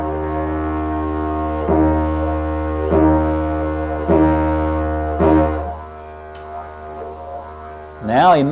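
Close, steady didgeridoo drone punctuated by four rhythmic tongue-snapped boings that mimic a kangaroo hopping, then the drone thins and fades out, with a brief voice-like sound at the very end.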